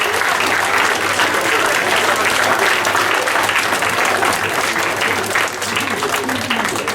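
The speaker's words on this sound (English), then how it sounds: "A big round of applause for our children, and you also clap." An audience at a school class event gives children a round of applause, sustained dense clapping from many hands at steady loudness for the full stretch, with voices faint underneath.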